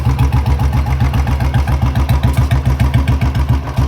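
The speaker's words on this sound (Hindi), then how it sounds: "तो भाई लोगों बाइक को थोड़ा चालू कर दिया मैंने ताकि साइलेंसर गर्म हो जाए एक बार।" A Royal Enfield Bullet motorcycle engine idling while warming up its silencer. A loud, close, steady thumping idle beats in a fast, even rhythm throughout.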